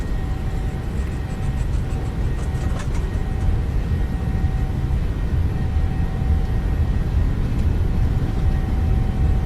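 Boeing 737-800 engines at takeoff thrust during a simulated takeoff roll in Microsoft Flight Simulator, a steady, loud, broadband jet roar with a constant fan whine, continuous and unchanging, with no voices.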